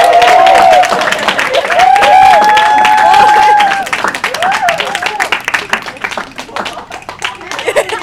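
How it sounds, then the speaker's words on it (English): An open mic night crowd claps and cheers for a performer, dense close applause with scattered whoops, while a voice calls out over the noise in the first half before the clapping thins and continues. "Clap it up for DP."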